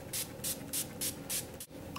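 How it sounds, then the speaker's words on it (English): Urban Decay All Nighter setting spray mists onto a face in five evenly spaced short spritzes, each a crisp close hiss. "So I'm gonna spray my face with this."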